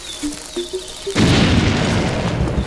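A bomb detonating in the Zelda: Link's Awakening remaster: a few short, chirpy tones and footsteps, then a single loud, sudden boom that rolls out into a long rumbling decay.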